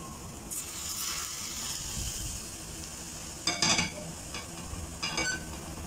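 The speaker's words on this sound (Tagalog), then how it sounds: "Kumukulong mantika, mainit na mainit." Chopped garlic sizzles in very hot cooking oil for a stem lettuce salad, a steady close hiss broken by a few sharp utensil scrapes and clinks against the pan, with no talking.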